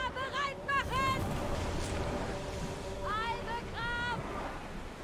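Sailing ship at sea in Assassin's Creed Odyssey, with a steady wash of waves and wind across the whole span, while voices chant and talk over it in several bursts.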